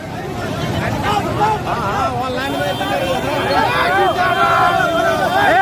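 A large crowd at a nomination rally murmurs and chatters all around, a dense babble of many voices with people speaking nearby over the steady hubbub.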